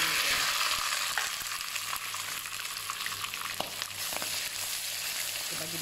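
Sliced onions fry in oil in a hot wok for sambal, giving a steady bright hiss and crackle with occasional soft clicks of stirring, close and continuous.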